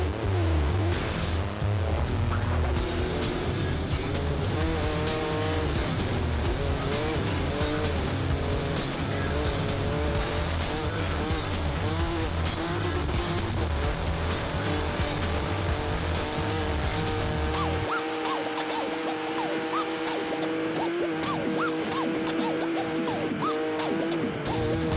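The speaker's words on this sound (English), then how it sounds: "evilla was acting as a screen for Schlesser, who sped off on the open track, holding nothing back and taking every possible risk" A rally car races flat out along an open track during the Dakar Rally, its engine revving hard and shifting pitch continuously with tire noise, loud and close throughout, with music-like tonal layers over the engine roar.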